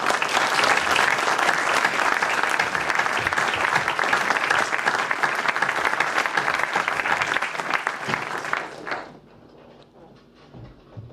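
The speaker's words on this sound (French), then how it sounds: "Je vous demande d'accueillir le président Charles Michel avec nos applaudissements." An audience applauds steadily for about nine seconds to welcome a speaker at an annual conference's opening session, then the clapping stops abruptly, leaving faint room noise.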